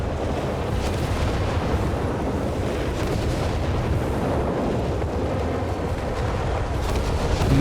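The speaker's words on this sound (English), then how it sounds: "Massive Luftwaffe barrage here." A massive Luftwaffe rocket barrage in Company of Heroes 3, set in Italy, pounds the ground as a continuous dense roar of overlapping explosions and rumbling impacts with no pauses, loud and steady throughout.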